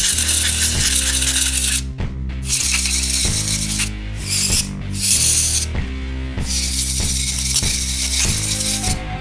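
Bursts of compressed air blown into a Walther P22 pistol to clear dirt, loud hissing sprays in several separate blasts with short pauses between, close and alone.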